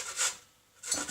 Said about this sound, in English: So then I'm going to do that on the grater.